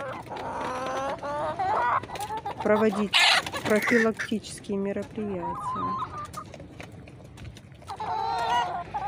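Hens and a grey rooster in a backyard flock, clucking and calling repeatedly at close range, with someone speaking over the birds.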